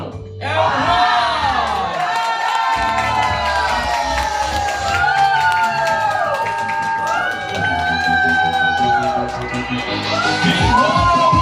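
A crowd cheers, shouts and claps right after a countdown at a product launch event, with loud, continuous whooping over music-like tones and a bright swell near the end.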